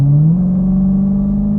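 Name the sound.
Challenger Super Stock car accelerating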